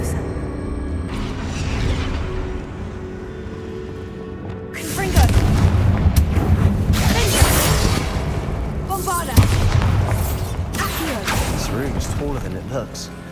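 Confringo fire spells detonate in the Hogwarts Legacy video game: loud booming blasts and crashing bursts roll over a dense bed of game sound, with heavy impacts around the middle and again later.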